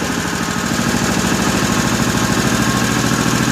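A 1955 Cushman Truckster engine idling just after a cold start, loud and close, with a rapid, even chugging beat and a rough, knocking mechanical rattle throughout, no voices.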